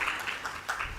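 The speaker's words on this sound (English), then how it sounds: "May I invite us to give him another warm" Warm applause from a conference audience at an export trade event, a short burst of steady clapping heard from across the room.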